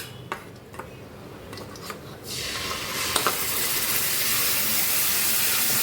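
Kashmiri chilli spice paste poured into hot oil sets off a sudden loud, steady hiss of sizzling that follows a few light clinks of a bowl and spoon and then holds continuously.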